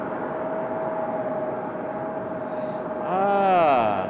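An American Airlines Boeing 737-800 arrives at Raleigh-Durham airport, a steady broadband jet roar swelling louder near the end as the aircraft passes close by.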